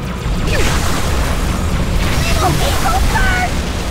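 A heavy booming blast from a Scarab gun in Halo 2, loud and rumbling with mechanical creaks and whines layered in, sustained over several seconds while people talk over it.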